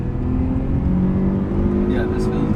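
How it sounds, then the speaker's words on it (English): A car engine in a daily driver fitted with supercar tech revs hard and steadily, climbing toward the rev limiter, loud and close throughout the short stretch, with a faint voice briefly over it near the end. "I hit the rev limiter"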